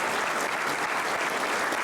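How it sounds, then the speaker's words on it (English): Steady, dense applause from a conference audience at a BSides Perth security talk, continuous and fairly loud throughout without pauses. "Big round of applause for L0ss"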